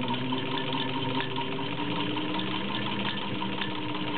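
A vintage Singer 15-125 sewing machine with a potted motor stitches through five layers of denim, giving a steady, continuous motor whir and rapid needle rattle close up, with no talking.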